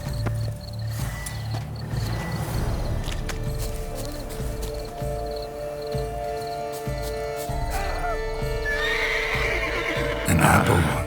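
A horse whinnies loudly several times in The Witcher 3: Wild Hunt over a busy game soundscape of music and ambience, with clip-clopping hooves and a final louder neigh near the end.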